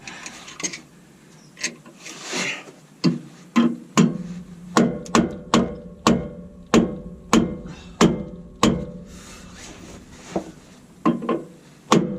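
A steady series of sharp hammer blows on wood, about twenty strikes with brief pauses, close and loud.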